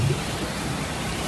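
Steady rain hisses across an outdoor political rally in front of the presidential office, a continuous broadband wash of falling water with a faint low rumble near the start and no voices.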